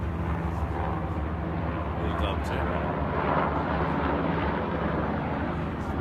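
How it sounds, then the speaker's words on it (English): Airplane flying overhead near an ocean shore, a broad continuous roar that fills the whole stretch, with someone speaking briefly over it. "let that plane go"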